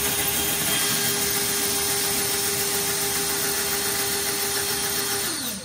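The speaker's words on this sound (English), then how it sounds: "drilling through this tile is no joke" A steady, loud whine of a power drill boring through tile runs continuously with a constant high hum, then its pitch drops slightly as it winds down at the end.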